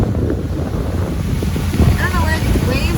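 Waves slap and wash against a small boat sailing through fog and rain, with heavy wind buffeting the microphone in a constant rumble; a few faint tonal squeaks and a voice rise briefly near the end.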